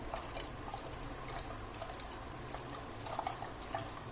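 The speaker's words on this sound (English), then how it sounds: "So this is the reason why we wash grains and pulses, or anything dry." Grains and pulses being washed by hand in water in a home kitchen: soft continuous sloshing and swishing with small splashes and trickles, close and fairly quiet, no voices.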